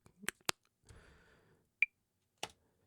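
A few sharp, dry percussive hits spaced apart, like claps in a sparse beat, with a short soft noisy swell between them.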